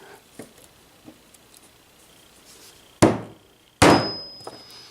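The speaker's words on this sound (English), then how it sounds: "I'll hammer it down a little so it gets a halfway decent connection" Two sharp, ringing hammer blows strike a small metal bar, each a loud crack with a short metallic decay, following a few seconds of faint handling noises.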